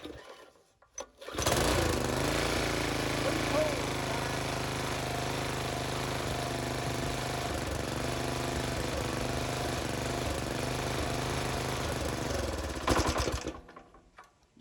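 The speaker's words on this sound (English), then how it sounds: "2 pulls and this joker fired up with a new carburetor on it." A small engine with a new Chinese-made carburetor catches after two pulls without choke, then runs steadily with a loud, rapid, buzzing putter for about twelve seconds before cutting out.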